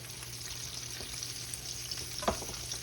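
Breaded pork steaks frying in a pan, a steady dense sizzle and crackle of hot oil heard close up, with one brief louder pop or clatter partway through.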